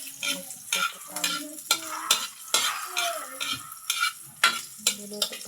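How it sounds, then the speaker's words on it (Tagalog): Corned beef fries in a pan with a steady sizzle, while a utensil repeatedly scrapes and taps the pan in an uneven rhythm of sharp clicks and stirring. "Tapos magpiprito tayo ng corned beef."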